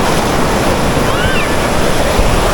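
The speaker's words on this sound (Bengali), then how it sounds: "দেখুন এই ঢেউটা দেখুন।" A large ocean wave breaks on Puri beach, a loud, dense roar of surf and rushing water mixed with wind noise throughout the short stretch.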